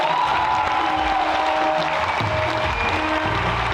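An audience at a live Punjabi music concert applauds in a steady, dense wash of clapping with faint cheering. The applause holds at a constant loudness for a few seconds as sustained tones ring underneath.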